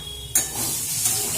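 Potatoes fry for breakfast in a home kitchen, with a sudden burst of hissing sizzle that then settles into a steady, close, moderately loud fizz.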